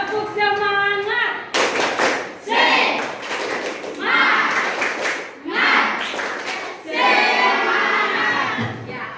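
Schoolchildren in an Indonesian classroom repeat the tepuk semangat clapping chant, rhythmic bursts of group claps mixed with loud shouted unison chanting, close and energetic, opened by a teacher's spoken cue.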